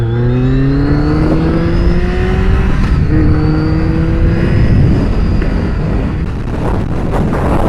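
A BMW 1200 roadster motorcycle engine revs up through the gears, its pitch rising in steps while wind roars across the microphone throughout.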